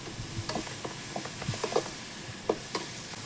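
Onions sauté in a pan for prawn thokku, giving a dense, continuous sizzle with light stirring scrapes and soft taps on top, close and steady, with no talking.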